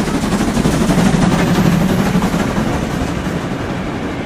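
A toy train runs steadily and fairly loud, a continuous rumbling clatter with a rhythmic clickety-clack that holds for the whole stretch without talk.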